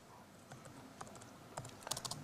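Light, quiet typing on a computer keyboard in a lecture setting: scattered soft key taps that grow into a quicker cluster of clicks toward the end, heard alone without talk.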